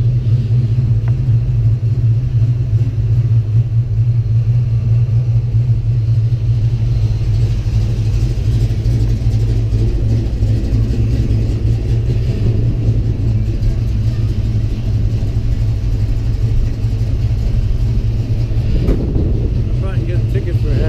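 Ford Mustang cars idle and creep along at walking pace in a parade lineup, a steady low engine rumble running throughout with faint voices in the background.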